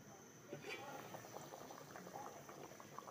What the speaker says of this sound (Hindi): उबाल आ गया है